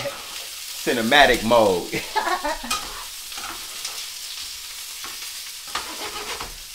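Vegetables sizzle in a hot pan while being stirred and tossed, a steady fry with scraping stirs, partly under a person's casual talk.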